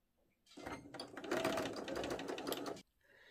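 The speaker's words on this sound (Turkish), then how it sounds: "Şimdi makinede omuz dikişlerini yapıyorum" Sewing machine stitching the shoulder seams of a plush vest on a zigzag setting, a close rapid mechanical chatter lasting a couple of seconds between quiet pauses, with no talk over it.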